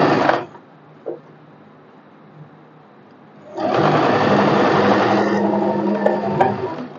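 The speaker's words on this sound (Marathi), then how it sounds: "अर्धा इंचावर स्टिच करून घेणार" A sewing machine stitching a half-inch seam on an umbrella frock: a short whir, then near silence with faint clicks, followed by a longer, louder steady run of rapid stitching.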